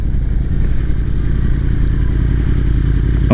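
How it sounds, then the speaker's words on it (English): Harley motorcycles roll past at a classic car show in Redondo Beach, California, a steady close low engine rumble filling the moment without talk. "Oh yeah, we got the Harleys coming through."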